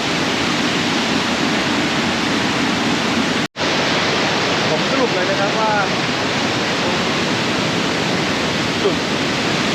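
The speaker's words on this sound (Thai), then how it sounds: "จุดตรงด้านบนเนี่ยนะครับน้ำตกสวยนะครับสวยมากเลยแล้วก็แรงด้วยนะครับ" Powerful roar of Mae Sa waterfall in Chiang Mai, a steady loud broadband rush of falling water close by that fills the whole clip apart from a brief cut, with someone talking briefly over it.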